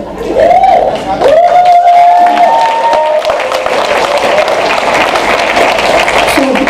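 Audience clapping at a corporate technology event, a loud sustained round of applause from a crowd, with a voice speaking briefly at the start over a sliding tone.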